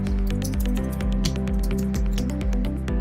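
Rapid typing on a computer keyboard while entering data into accounting software, a busy run of close key clicks over steady background music.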